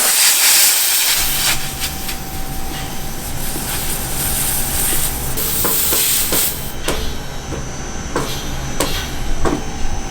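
Compressed air hissing into a car tire on an RX7, a loud continuous hiss with a faint steady tone, broken by several sharp metallic clicks and knocks toward the end.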